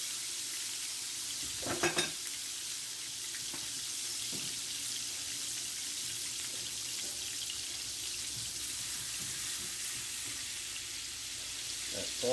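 Butter melting in a grill pan gives off a faint, steady sizzle, broken by a couple of brief clatters near the start, with no talking.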